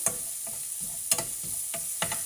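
Ingredients sautéing in a pan while being stirred, a soft continuous sizzle broken by several sharp scrape-and-clack stirring strokes, close up with no voices.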